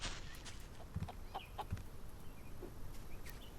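A chicken in a sky-island survival sandbox game gives a few short, soft clucks over a faint ambient background, with no talking.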